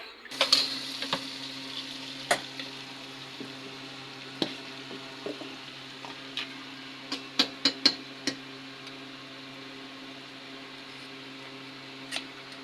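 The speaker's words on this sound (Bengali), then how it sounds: "এখন তো আম্মু ভালো করে পেঁয়াজ মরিচ ভেজে নিচ্ছে" Soft continuous sizzling of onions and chilies frying in a pan, with scattered clicks and light clinks of stirring over a steady low hum.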